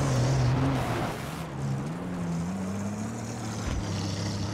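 A car engine in Battlefield 3, a steady low hum that drones on and shifts pitch slightly as the vehicle drives, fairly loud and continuous with no talk over it.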